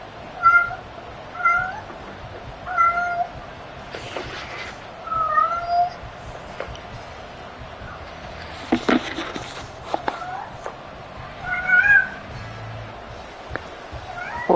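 A cat meows repeatedly, in short rising and falling calls at a steady pace, close and fairly loud, with some rustling and a few thumps between the calls.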